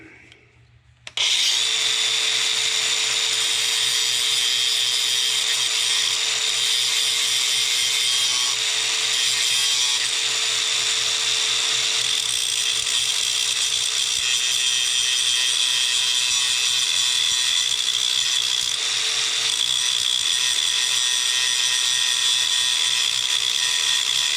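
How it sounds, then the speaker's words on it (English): A power grinder whines loudly and steadily after a brief quiet start, a bright continuous high-pitched grinding that holds for the whole stretch with slight variations. "Let me get my grinder."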